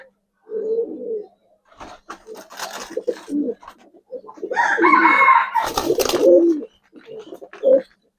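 Giribaz high-flyer pigeons cooing up close in a series of low, throaty bursts separated by short pauses, with some brighter squawks and noise toward the middle.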